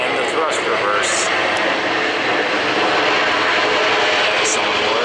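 An airliner landing at Atlanta roars loudly through thrust reverse, a continuous close, harsh jet-engine wash that stays strong for several seconds with no voice.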